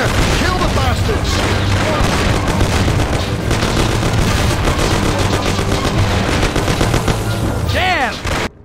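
Loud, continuous gunfire from a shootout in the video game Mafia, with dense overlapping shots and bursts filling the scene over music, and shouting voices in the mix until a sudden cutoff at the end.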